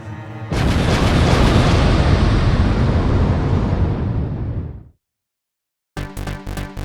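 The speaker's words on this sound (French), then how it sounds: "Explosion!" A loud, roaring explosion rumbles for about four seconds before cutting to silence, followed by a burst of rhythmic noise.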